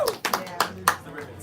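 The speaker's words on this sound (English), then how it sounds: "clap it up for that, clap it up." A small audience claps in scattered, uneven bursts, a few distinct sharp hand claps rather than a full ovation, with talking mixed in underneath.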